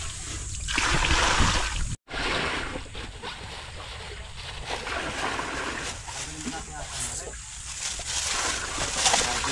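Feet wade and splash through an ankle-deep flowing stream while out catching frogs, continuous sloshing and trickling water throughout, close and moderately loud, with a brief break, and people talking over it.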